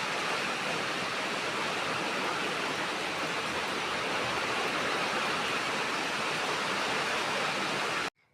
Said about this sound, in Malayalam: അടിപൊളി മഴ പെയ്തുകൊണ്ടിരിക്കുകയാണ്. ഇവിടെ കുളത്തിലേക്കൊക്കെ വെള്ളം ഇങ്ങനെ പല വഴിക്കുന്ന് വീണുകൊണ്ടിരിക്കുക